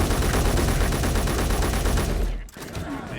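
Video game gunfire in a rapid, loud burst of repeated shots at close range, ending abruptly before a quieter tail.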